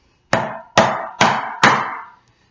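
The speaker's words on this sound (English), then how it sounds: "The easiest way to do that is with a chisel and a hammer." A hammer strikes a chisel four times, cutting notches in wood for a Viking chair; the sharp, close, evenly spaced blows each ring out briefly, with no talking.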